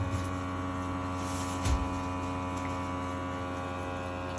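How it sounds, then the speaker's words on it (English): An ECOVACS DEEBOT X1 Omni robot vacuum dock hums steadily as it pumps dirty water into its tank, a faint, even mechanical drone with a brief bump partway through and no talking. "It's currently putting in the dirty water from the hose into the vacuum into the dirty water tank for me to empty."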